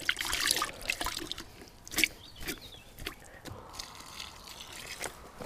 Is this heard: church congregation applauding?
no